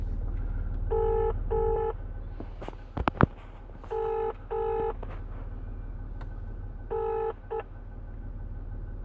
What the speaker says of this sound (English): That's me phoning Lynsey back here